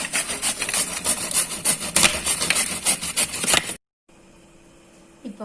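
Potato-like tubers are scraped over a carrot grater for vadai, a fast, rough rhythmic rasping, close and loud for several seconds, then stopping abruptly, followed by quieter room noise.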